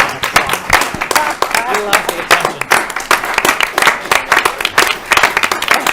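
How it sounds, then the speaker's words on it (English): A council chamber audience claps for a building supervisor at a city council meeting, loud, dense, sustained applause throughout, with voices talking over it. "I think we ought to give him a round of applause."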